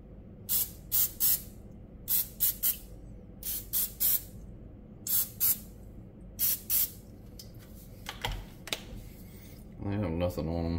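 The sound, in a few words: cooking oil spray can spraying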